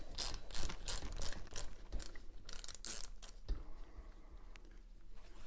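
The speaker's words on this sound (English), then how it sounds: "And then we loosen the rim lock." A wrench turns the rim lock nut on a dirt bike wheel with a close, loud ratcheting clatter in repeated bursts, then eases into a quieter mechanical rattle.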